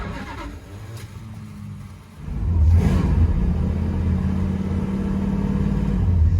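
Starter motor on a 1969 Dodge Polara with a failing starter cranks the engine in a sustained low rumbling whir that grows louder after a brief weak start, with no talking.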